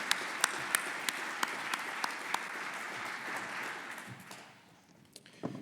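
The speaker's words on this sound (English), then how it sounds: "Another round of applause." A crowd applauding at a city's state of the community address, steady clapping with a few sharper claps standing out, fading away over the last second or two into near quiet.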